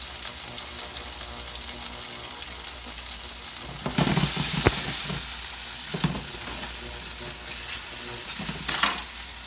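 Gnocchi and chopped onion frying in a pan, a steady soft sizzle with a louder burst as more food hits the hot oil, plus occasional stirring scrapes.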